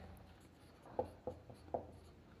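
Chalk or marker taps and strokes on a board during a chemistry lecture, three faint, brief marks spaced under a quiet room hum.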